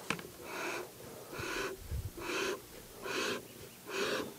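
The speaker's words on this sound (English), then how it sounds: "you can put another handful into your smoker and gently squeeze the bellow" Bellows on a beekeeping smoker puffing air four times in a steady rhythm, each squeeze a soft breathy whoosh, close and fairly quiet with no talk.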